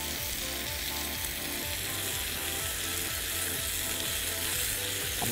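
Diced shallots sizzle steadily in a hot pan alongside lamb steaks, a dense continuous frying hiss with faint scraping, close and fairly loud with no talking.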